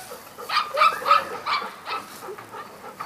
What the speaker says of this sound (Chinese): 这条金毛呢，目前在我这儿